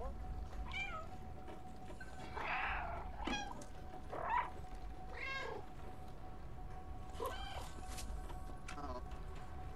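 A cat meows several times in the Stray video game, short faint mews spread across the stretch over a steady low hum, with light talking in the background.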